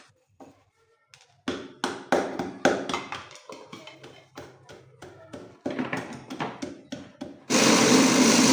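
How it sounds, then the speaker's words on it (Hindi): Roasted black chickpeas without skins are loaded into a kitchen grinder with a series of rattling taps and clatters before the motor kicks in with a loud, steady whirring grind at the end. "अब हम चने भी ऐसे ही ग्राइंड कर लेते हैं।"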